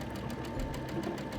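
A Brother or Baby Lock computerized sewing machine stitches out a decorative alphabet with a stabilizer behind the fabric, giving a quiet steady mechanical whir and rapid needle rhythm close by.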